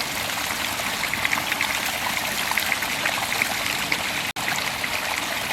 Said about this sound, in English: There's this nice little bit here where there's a waterfall.